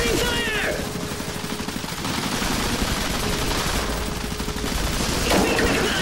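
Rapid gunfire and machine-gun bursts in the real-time strategy game Iron Harvest, loud and continuous battle fire with scattered shot transients over several seconds.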